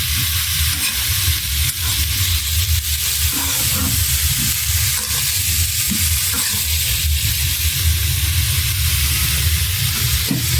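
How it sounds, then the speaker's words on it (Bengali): Katla fish roe fries in hot oil in a pan with a steady, loud, dense sizzle and hiss that holds unbroken throughout, close up and with no voices. "সিদ্ধ হওয়ার জন্য কিছুক্ষণ দেখে রাখবো ডিমটা যখন তেল বেড়ে আসবে তখন ডিমটা হয়ে যাবে"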